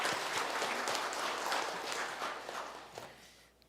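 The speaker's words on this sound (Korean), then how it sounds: "우리를 언제나 도우시는 하나님께 다시 한번 감사와 영광의 박수 올려드리겠습니다" A church congregation applauds together, a broad, fairly quiet wash of clapping heard from a distance that slowly tapers off toward the end.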